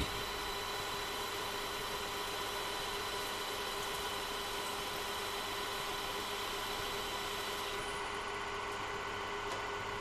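A parallel lathe runs with the carriage feed engaged during a turning pass between centres, giving a steady, even mechanical hum and whine that barely changes throughout, with no speech.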